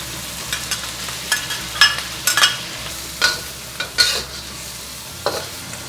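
Mushrooms, dried shrimp and shallots are stir-fried in a pan for Taiwanese sticky rice. A spatula scrapes and taps in quick irregular strokes over a faint steady sizzle, close up, with no talk.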